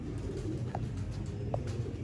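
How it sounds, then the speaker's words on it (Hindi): Sialkoti pigeons, rare breeder A-class birds, coo softly at close range, with two short calls rising over a low, steady murmur of cooing. "सियालकोटी कबूतर"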